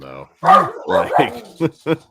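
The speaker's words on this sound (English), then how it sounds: "apologies for my dog." A dog barks twice, short and close, right after a person talking over it; the barks come at the end, clearly audible above the voice.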